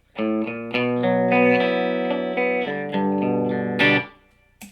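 An electric guitar through a boosted Laney IRT15 tube amp plays sustained chords and single notes with a gritty, crunchy overdriven tone, loud and ringing, ending in a brief pause.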